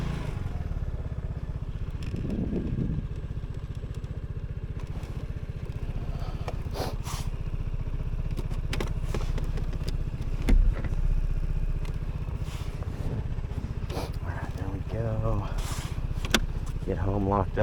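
Vespa GTS 300 scooter fitted with a windscreen, heard while riding: a steady low engine drone with wind rush runs throughout, with occasional light clatter and brief voice-like sounds near the end.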